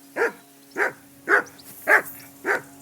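Five steady barks from a dog in the medieval RPG Kingdom Come Deliverance 2, close and clear, evenly spaced about half a second apart with nothing else over them.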